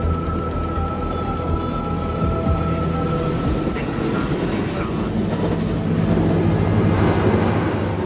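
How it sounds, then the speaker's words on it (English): A rapid train rolls toward Itami station, a steady low rumble of wheels on rail with a sustained tonal hum, swelling slightly near the end; a voice narrates over it. "As the train approaches the next station, Itami"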